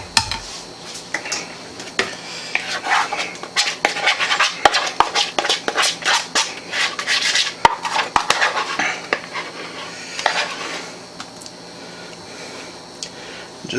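Cake batter is spread over pineapple and brown sugar in a baking pan for an upside-down cake, with uneven scraping, tapping and clinking of a utensil against the metal pan, close and loud in irregular bursts.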